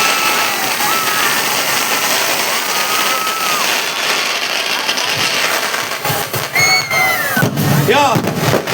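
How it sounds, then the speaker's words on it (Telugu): Fireworks and firecrackers burst at an outdoor birthday celebration, with a steady crackle and rumble that gives way to whistling rockets near the end, all over loud crowd noise. "enjoy the crackers"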